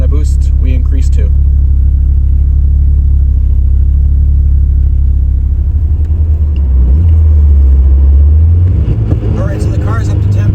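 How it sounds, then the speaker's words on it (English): Tuned turbocharged car with electronic boost control, running on 94 pump gas, heard from inside while pulling onto the highway: a loud, continuous low engine drone and road rumble, rising in pitch toward the end as it accelerates. "we'll take it for a drive and make some pulls and see what kind of boost we increase to"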